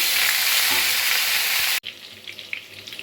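Cut potatoes fry in oil left over from frying small parshe fish, a loud, dense sizzle that breaks off abruptly partway through, then resumes quieter and more crackly.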